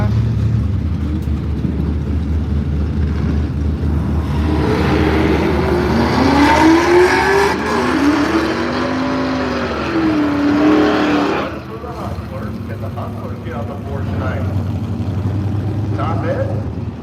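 A Camaro and a red car race side by side down the Firebird Raceway drag strip, their engines roaring loud and steady for about eleven seconds before fading, with announcer talk over the noise throughout.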